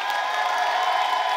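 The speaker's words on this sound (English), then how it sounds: "Clap your hands one more time." Conference crowd applauding and cheering in a large hall, a steady dense wash of clapping and voices filling the room evenly throughout.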